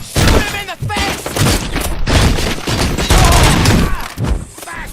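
Gunfire in the RoboCop video game, loud rapid bursts of shots and heavy booms packed closely together throughout, with shouted speech mixed in.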